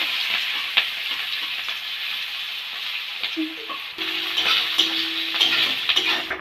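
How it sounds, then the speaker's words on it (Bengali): Cumin seeds and chopped onion sizzle in hot oil in a pan, a steady close frying hiss broken by occasional clinks of a stirring spoon against the metal. "এবার আমি জিরে ফোড়ন দেবো। একটা পেঁয়াজ কেটে নিয়েছি, কুচিয়ে দিয়ে দেবো।"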